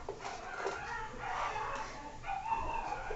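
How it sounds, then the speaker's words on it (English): Several dogs bark, yip and whine in short bursts at moderate distance indoors, repeating irregularly over a steady background hum. "you can hear my dogs barking"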